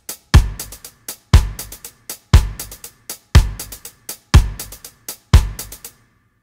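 Two layered drum parts play a reggae groove together, a strong accented hit starting each bar with several quicker lighter hits after it, looping six times evenly, up front and full with no talking.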